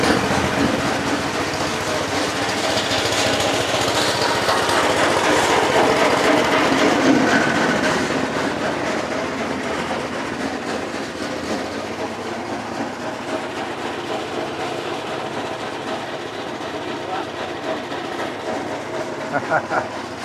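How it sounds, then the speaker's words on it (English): Concrete pours from a truck into forms for foundation walls on a building site. A loud, steady mechanical rumble with grinding and engine drone runs for the whole stretch and does not let up. "first load of concrete's getting poured out. It's gonna be a little loud"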